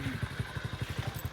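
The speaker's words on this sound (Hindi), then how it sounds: "इनकी बाइक भी यहाँ पे फंस रही है।" A motorcycle bogging on muddy ground, its engine chugging in a rapid, regular low thump with rough clatter, close and moderately loud, no talk.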